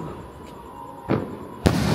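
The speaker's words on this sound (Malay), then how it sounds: "Okey, sekarang kita nak bakar mercun kelapa." Two sharp coconut firecracker blasts go off about half a second apart during Hari Raya celebrations, the second louder and closer, over a steady background hiss.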